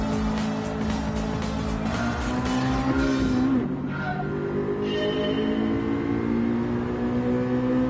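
Race car engine in Gran Turismo 7, a loud sustained roar shifting in pitch as it revs and accelerates, with tire squeal blending in, no talk.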